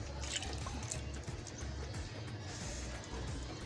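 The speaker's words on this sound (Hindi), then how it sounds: "1 कटोरी पानी मैंने ऐड कर दिया।" A bowl of water poured into simmering khoya kofta gravy, a soft liquid pour and trickle with light dripping, fairly quiet and close, without talk.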